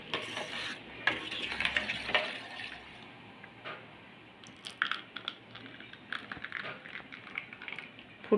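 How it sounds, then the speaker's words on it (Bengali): A drop of food colouring is stirred into grape ice cream batter in a bowl, with soft, irregular clicking and scraping from the utensil, close and fairly quiet. "আর ফুড কালারটা মিশিয়ে দিচ্ছি।"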